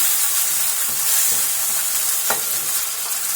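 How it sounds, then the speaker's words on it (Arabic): Tomatoes sautéing in a hot pan for a baked shrimp and rice casserole, a steady bright sizzle with occasional stirring scrapes, close and continuous with no talking. "اول ما بتشوح كده بنزل بالطماطم وخليها على جنب كده يا دوبك تاخد ريحه"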